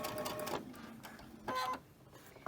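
A sewing machine stitches quilt fabric for a quilt block in two short, quiet runs separated by a pause, with no talking.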